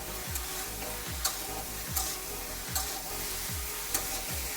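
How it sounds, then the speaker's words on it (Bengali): Fish pieces coated with turmeric powder and salt are stirred in a hot pan, with a steady sizzle and a spatula scrape roughly every second, close by. "আমি ভালো করে নাড়াচাড়া করে আমি একটু ঢেকে দেবো।"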